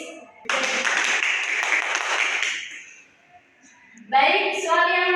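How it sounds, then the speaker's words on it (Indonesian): A classroom of students claps during a teaching lesson, a dense burst of hand clapping for about two and a half seconds that then fades, followed by a voice speaking. "tepuk tangan dulu untuk Yelis."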